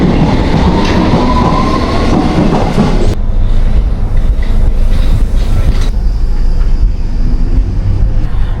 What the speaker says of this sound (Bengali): অ্যাক্টন টাউন পিকাডিলি লাইন চলে আসছে।